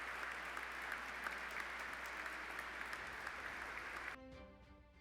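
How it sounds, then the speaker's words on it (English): An audience at a Marine Corps Heritage Foundation awards ceremony applauds its award winners in a dense, steady wash of clapping that cuts off near the end, giving way to quiet background music. "So a round of applause for our entire group of award winners."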